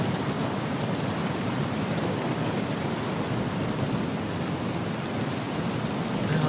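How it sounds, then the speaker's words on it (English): Steady rain falling inside a mall in the Battlefield Hardline video game, a dense continuous hiss at an even level throughout, with no voices. "Why is it raining in the mall?"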